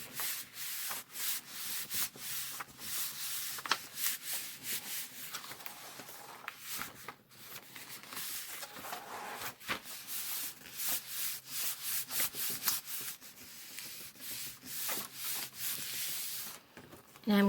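Paper being rubbed and pressed flat onto a composition notebook cover by hand, a steady run of close, scratchy rubbing strokes in quick rhythm with brief pauses.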